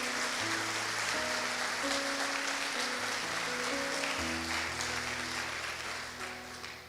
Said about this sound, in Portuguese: Vamos dar um aplauso pelo pastorzão aqui